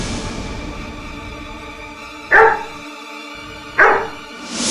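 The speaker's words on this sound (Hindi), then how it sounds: "ये कुत्ता इन्हें देखकर भौंक रहा था।" A dog barks twice, each a sharp, loud single bark well spaced apart, over a steady background hum and with no talking.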